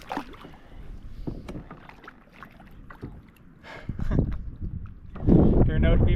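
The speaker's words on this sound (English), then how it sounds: "Kind of glad I came out here and braved the wind." Wind buffets the microphone out on the water during kayak fishing for trout on a windy day, with gusty rumbles and splashy knocks from the kayak that swell louder toward the end.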